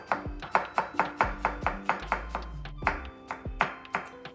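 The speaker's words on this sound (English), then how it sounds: "Just gonna chop that nicely." A knife chops a jalapeno on a cutting board in a quick, even rhythm of about a dozen crisp, close thuds with no talking.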